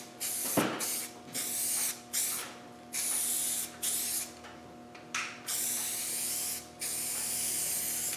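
Aerosol can of SEM plastic paint spraying Land Rover plastic parts through a wide fan nozzle, a series of close hissing bursts, each a second or so long, separated by short pauses.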